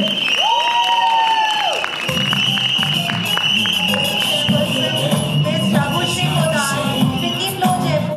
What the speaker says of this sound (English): So round of applause for Mr. Sandeep Sikkan.